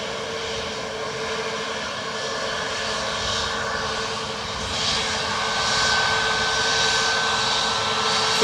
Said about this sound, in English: Ryanair from Glasgow next to land